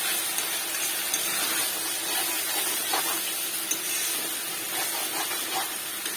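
Spice paste for doi chicken frying in a pan, giving a steady close hiss and sizzle with faint crackles throughout, no voices.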